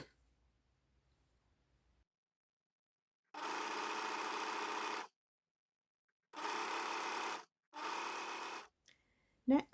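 A sewing machine stitches the raw edges of stretchy activewear fabric, running in three separate steady bursts with short pauses between them, fairly loud and close against an otherwise quiet room.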